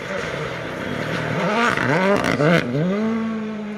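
Rally cars on a Welsh rally championship stage approach through conifer woodland, engines rising and falling as they rev through gear changes, growing louder and nearer with a voice talking over them.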